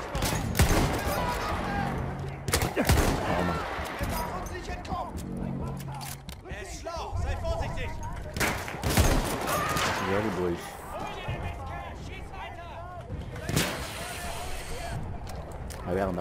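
Old World War I era guns fire in the video game Battlefield 1 as a dense, loud battle of repeated gunshots and blasts, with someone talking steadily over the din.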